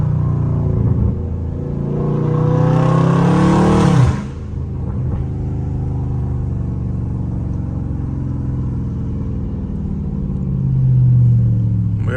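A loud Dodge Scat Pack revs hard and close in a residential neighborhood, its engine note climbing sharply and cutting off before settling into a deep, steady rumble that swells again near the end.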